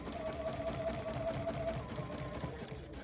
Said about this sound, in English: I'm going to turn it and then switch to a straight stitch and sew towards me